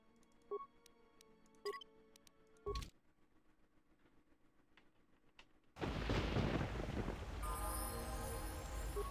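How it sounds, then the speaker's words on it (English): Rolling thunder from the video game Star Wars KOTOR 2 swells in around the midpoint as a loud, broad rumble and keeps going to the end, following quieter game effects and a few sharp clicks. "There's a pretty good thunder sound effect is what it was."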